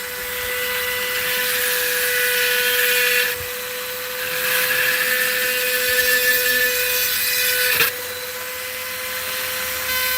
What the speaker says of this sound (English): It's going to get a little noisy, guys, but that's part of drilling.